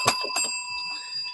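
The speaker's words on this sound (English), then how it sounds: "I'll ring the bell" A small bell, like a bicycle bell, rings twice in quick succession close up, and its clear tone holds and fades.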